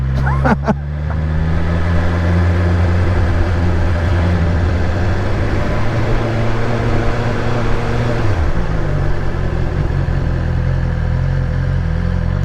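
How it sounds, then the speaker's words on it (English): A BMW S1000XR motorcycle sits running while its cooling fans kick on, a steady whirring hum layered over the idling engine, with a brief sharp clatter at the start and a shift in tone near the end. "There's our fans going."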